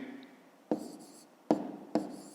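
A pen writes numbers on paper in three short, close strokes, each a crisp scratch followed by a fading scrape, quiet and alone.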